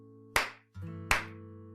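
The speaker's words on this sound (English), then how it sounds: "Can I make some clap sounds?" Two sharp hand claps about three-quarters of a second apart, each crisp and close with a short ringing tail, over a steady tonal music bed.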